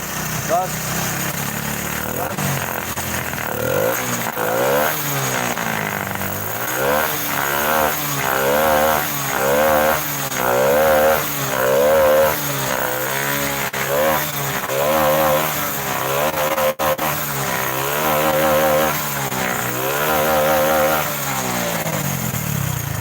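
Close and loud, a Honda Blade fuel-injected motorcycle engine revs again and again, rising and falling in steady waves over a constant running drone.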